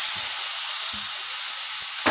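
Taro stolons (kochur loti) dropped into hot spiced oil with prawns, a steady loud close sizzle and hiss of frying with no pauses and a few faint low bumps beneath.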